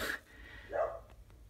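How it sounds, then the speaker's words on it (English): A single dog bark, fairly faint and a little distant, followed by quiet. "Sorry about my dog barking."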